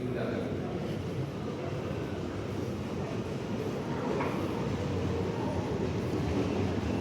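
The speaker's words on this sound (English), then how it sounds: "Time to get the tube." A London Underground tube train running with a steady, loud rumble throughout, broadband and continuous with no distinct pauses; a voice may be faintly present beneath the noise.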